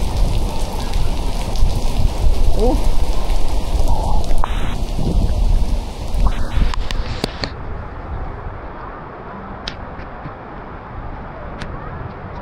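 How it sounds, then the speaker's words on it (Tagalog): Heavy rain pours down in a loud, continuous hiss with occasional sharp cracks and rumbles. A person briefly exclaims, and the downpour softens somewhat in the latter half. "Ulan na naman. Lakas ng ulan,"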